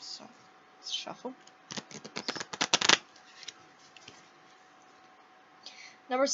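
Tarot cards shuffled by hand during a reading, with a quick burst of crisp riffling clicks in the middle framed by softer scattered card sounds, close and alone.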